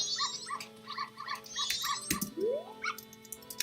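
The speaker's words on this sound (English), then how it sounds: "Is Sadie barking at those dogs?" Sadie the dog gives a run of short, high yips and whimpering barks in quick bursts, fairly close and with no voices.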